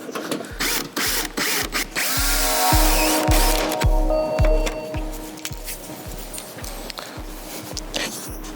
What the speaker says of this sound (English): We'll get a little bit bigger hole drilled in there and put like a rivet nut in.